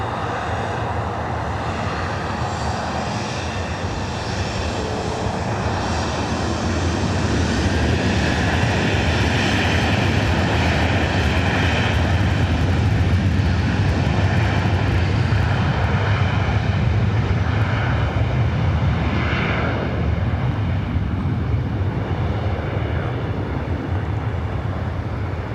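A plane takes off at LAX, a loud sustained engine roar that builds and swells steadily over about half a minute, heard from nearby on the ground with no voices over it.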